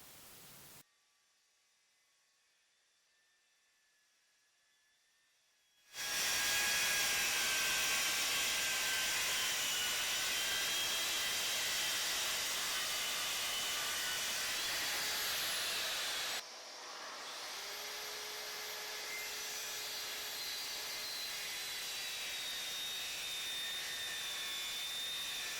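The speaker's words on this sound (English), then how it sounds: "let's break out the track saw and we'll put some straight edges on our plywood" A track saw ripping straight edges on a sheet of plywood for a custom built-in cabinet, a loud, steady broadband whine that starts abruptly and runs continuously, then drops a little in level partway through the cut.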